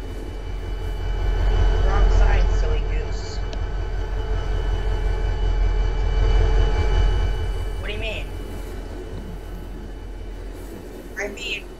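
A Brightline Express train rumbles past with a broad roar that swells and fades, with faint squeals and brief voices over the noise.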